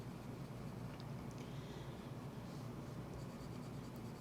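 A pen or marker colors in leaves on a handmade card with faint, steady scratchy strokes under a constant background hiss.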